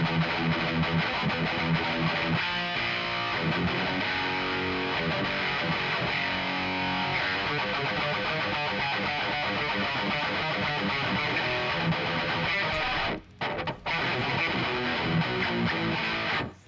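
A heavily distorted electric guitar plays a dense, continuous rhythm part through the Aurora DSP amp sim, loud and driving, with two brief stops near the end.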